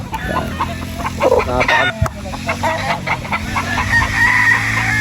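Duke Halsey Lemon gamefowl rooster on a farm, crowing loudly and clucking close by, with other fowl calling in the background.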